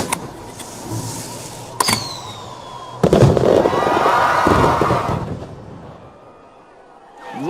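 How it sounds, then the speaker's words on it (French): An electrically fired firework shell launches with a sharp thump followed by a loud whooshing roar that fades away, preceded by a couple of small cracks. "Mais est-ce que ça suffira à lancer la bombe?"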